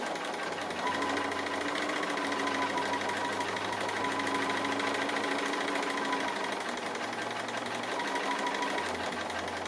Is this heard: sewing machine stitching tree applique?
yes